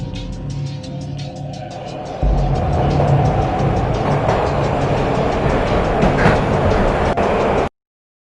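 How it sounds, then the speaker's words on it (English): Train ride in a PS4 video game, a steady rumbling rail-and-engine drone that jumps abruptly louder partway through, then holds a dense, sustained roar before cutting off to silence. "This was my second train ride of the night."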